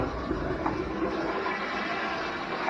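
Steady rushing water from a flushing school restroom toilet, a broad hissing roar at close range with no voices.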